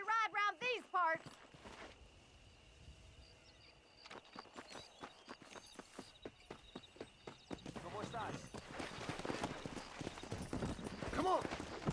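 A horse's hooves clip-clop steadily while riding in Red Dead Redemption, starting slow and sparse then quickening to a faster gallop, with a whinny at the start and voices talking over the hoofbeats.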